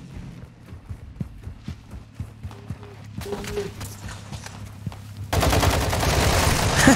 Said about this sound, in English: He tried to shoot me.